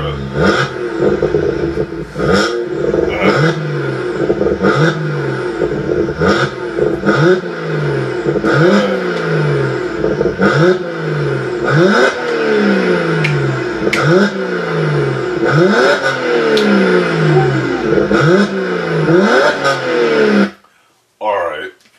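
A BMW 1M with an N54 engine is revved hard again and again, about a dozen sharp rising-and-falling blips in quick rhythm, loud and close, before cutting off abruptly at the end.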